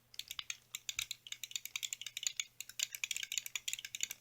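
A Famicom Quick Shot controller with suction cups on its base makes rapid, light plastic clicking. Dozens of crisp clicks come in a quick, slightly uneven rhythm, close and fairly quiet over a faint low hum.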